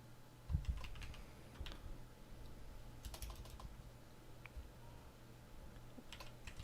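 Typing on a computer keyboard, faint scattered key clicks in short bursts against a steady low hum, no talking.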